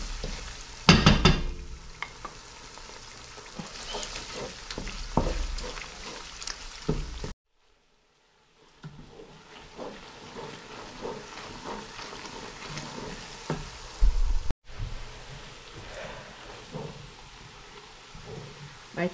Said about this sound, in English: I'm gonna fry this tomato paste until